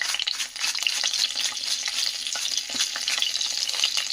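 Green chillies and cumin seeds frying in a pan, a dense steady sizzle with soft crackles throughout, close and fairly loud with no talk.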